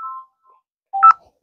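Telephone keypad tones dial out to a customer: a short beep, a faint brief blip, then a louder double-pitched tone near the end, with silence between them.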